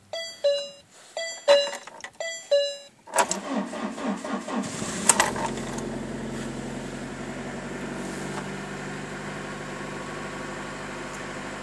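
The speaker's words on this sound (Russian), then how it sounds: "Машина с легкостью завелась." A car engine with a dead battery cranks in several short, rhythmic bursts from a jump-start device, then catches and settles into a steady, loud idle that runs on to the end.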